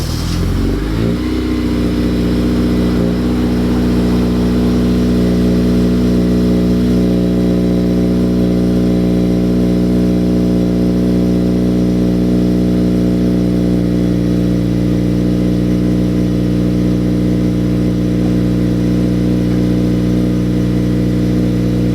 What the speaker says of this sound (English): Let's get a cold start with the Skunk2 header.